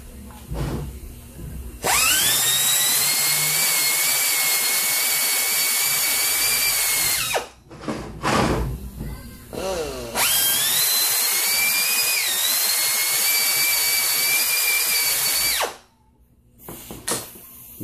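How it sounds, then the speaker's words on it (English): A power drill bores two holes into a passage of a CD4E automatic transmission valve body, running in two long, loud, steady bursts of whining motor and cutting, with a short pause and clatter between them. "we're gonna drill two holes here in this passage"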